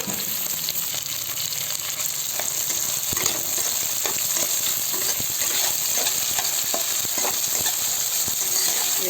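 Onions and green chillies fry in hot oil for a semolina kichdi, a steady loud sizzle with scattered crackles and occasional stirring scrapes, no voices.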